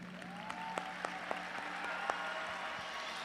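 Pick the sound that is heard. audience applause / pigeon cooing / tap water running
audience applause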